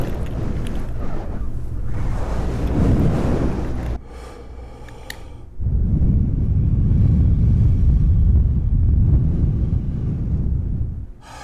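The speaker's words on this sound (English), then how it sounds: "rubbing the fuzzy mics" Fuzzy microphone windscreens are rubbed in bursts of loud, close, scratchy rumbling, with a short quieter gap and a single click partway through.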